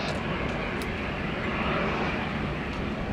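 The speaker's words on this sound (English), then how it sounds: "Here we've got Q-Link 192 heading out to Moree, and it's operated by the 200 series Dash 8." A Dash 8 200 series turboprop airliner at Sydney Airport hums with a steady, loud engine drone while it waits before departure, with no voices over it.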